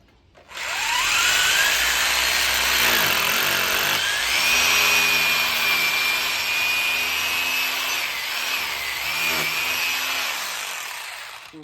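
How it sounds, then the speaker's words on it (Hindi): A power drill bores into a wall during the setup of a 43-inch LG LED TV, with a loud, sustained whining buzz that starts abruptly, wavers in pitch and continues steadily with no voices. "तो उसके नीचे साइड में जो है ड्रिल कर लिए, एक ड्रिल और मारेंगे।"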